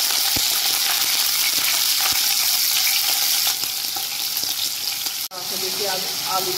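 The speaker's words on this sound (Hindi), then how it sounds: "आलू को फ्राई करेंगे।" Potatoes for a spring onion aloo dish frying in a pan, a dense continuous sizzle with occasional ticks and clinks of a utensil, briefly dipping before resuming.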